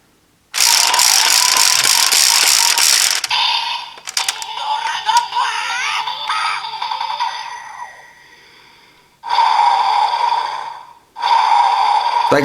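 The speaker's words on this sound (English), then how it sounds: "Then, using this dial, spin it a few times counterclockwise." A DX Tiger Dora toy dial spun counterclockwise several times, setting off a loud burst of electronic toy sound effects and music in separate bursts with short pauses between them, close and alone.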